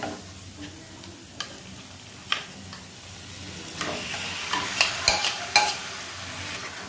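Marinated paneer fries in a pan with oil, giving a continuous sizzle. A utensil stirs and scrapes it gently, with a few sharper clinks that cluster toward the end. The sound is close and no one speaks.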